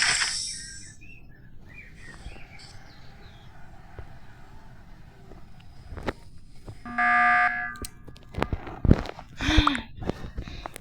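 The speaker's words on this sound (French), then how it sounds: "Ils vont arrêter de buzzer ou quoi?" Alarm buzzer from the video game Among Us played on Roblox, sounding in a few bright tonal bursts near the end over a quiet background with soft game noises and faint scattered sounds.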